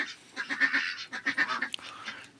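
Several ducks quack in quick, overlapping bursts close by, a noisy cluster of nasal calls followed by quieter chatter.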